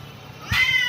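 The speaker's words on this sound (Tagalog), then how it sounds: "Nag-aaway na pusa" Two cats fighting give out a sudden loud, drawn-out yowl that starts midway and carries on to the end, close and without talk.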